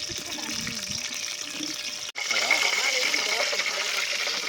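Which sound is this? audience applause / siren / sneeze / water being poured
water being poured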